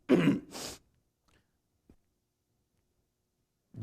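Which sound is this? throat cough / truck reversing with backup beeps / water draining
throat cough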